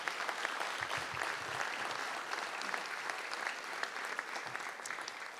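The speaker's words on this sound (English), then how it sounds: "we can give them a round of applause" Audience applauding city commissioners at a State of the City address, a steady wash of many hands clapping that holds evenly throughout, moderately distant with no voices on top.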